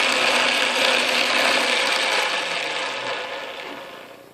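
An Atlas Craftsman lathe runs with a steady, fairly loud whirring drone that slowly fades toward the end, with only a faint rattle from its gears.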